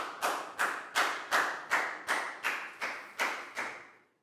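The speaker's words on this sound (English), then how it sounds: "So big round of applause" A Year 4 maths class claps for a pupil, about ten evenly spaced loud claps in a slow, regular rhythm, each one sharp and then fading, with no talking.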